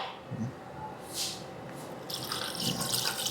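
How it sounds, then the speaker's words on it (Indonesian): Water is poured into a cooking pot for tori paitan chicken broth, giving a faint splashing stream in uneven bursts, close and quiet. "Terus kita masukin airnya."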